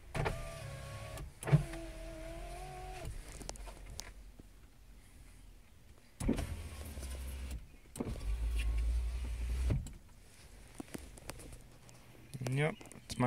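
A struggling power window motor in a 2002 Oldsmobile Alero GL whines in slow, strained bursts, with a couple of separate runs and thumps between them. Speech sits under parts of it.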